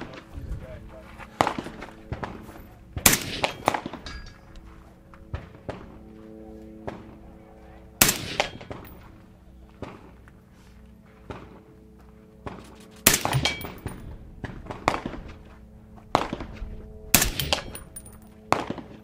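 Suppressed shots from a 6.5 Creedmoor rifle with a 14.5-inch barrel at a trade show range, several sharp cracks spaced a few seconds apart over a steady background hum.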